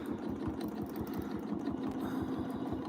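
Quilting machine stitching in the ditch along a quilt seam, a quiet steady rapid mechanical hum with a fast regular needle rhythm, running alone without talk.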